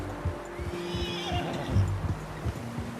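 A horse whinnies in Red Dead Redemption 2, one rising neigh over steady hoof clip-clops and a low ambient drone, fairly close with no talk.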